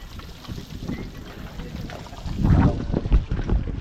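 A low, steady rumble of a boat engine running out at sea, growing louder and choppier halfway through, with wind buffeting the microphone.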